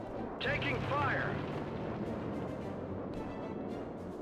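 Gunfire and artillery in a real-time strategy game: a steady low rumble of distant explosions and shots runs throughout, with a brief radio-style voice near the start.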